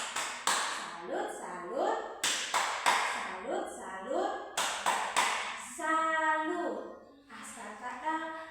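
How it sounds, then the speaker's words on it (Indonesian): A fourth-grade elementary school class performs a salute clapping chant, with sharp, rhythmic bursts of group claps alternating with children's voices chanting in unison, close and lively. "Tepuk salut ke ti Aska."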